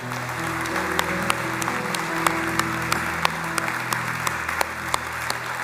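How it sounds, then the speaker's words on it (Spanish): Congregation in a church service claps together in a strong, continuous round of applause, individual sharp claps standing out over a steady hum of the room. "Le damos un fuerte aplauso al Señor"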